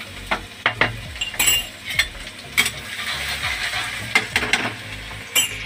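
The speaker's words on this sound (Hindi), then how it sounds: "तो इसको थोड़ा सा लाल होने तक लहसुन को पकाया जाएगा।" Garlic frying in a pan for a cluster bean curry, a steady sizzle under repeated clanking and scraping of a spoon stirring against the pan, with no talking.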